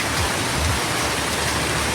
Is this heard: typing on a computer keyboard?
no